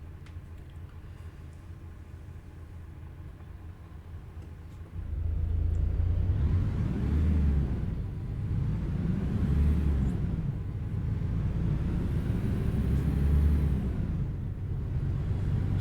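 A Kenworth K100 truck engine rumbles while driving, starting as a quieter drone and then jumping to a louder, deeper roar that rises and falls in slow waves. A voice briefly says a single word.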